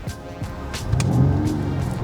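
A Mercedes-Benz car engine swells into a throaty rev close by, a low rumble building after a second and holding steady, with a few faint clicks beforehand.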